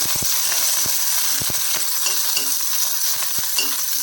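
Mustard seeds sputter in hot oil with a dried red chilli and curry leaves, a steady loud sizzle broken by sharp, irregular pops close by, with no voices.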